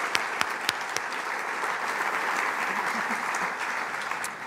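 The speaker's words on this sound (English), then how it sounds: "Let's give them all a round of applause." A large audience at a community foundation's 50th anniversary philanthropy celebration applauds steadily, with a few sharp claps standing out early, the dense clapping holding at a consistent level for several seconds.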